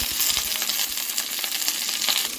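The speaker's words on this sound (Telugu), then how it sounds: "ఫస్ట్ ఆనియన్స్ అలాగే చిల్లీ కరివేపాకు ఇవి ఆయిల్లో వేసేస్తున్నాం" Onions, green chilli and curry leaves hit hot oil for a fish curry, giving a steady, bright crackling sizzle with dense popping throughout and no voices.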